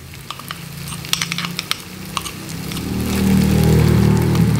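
Blended coconut serundeng hitting a hot pan and being stir-fried, crackling spits and pops at first, then settling into a loud, steady sizzle that builds and holds close up.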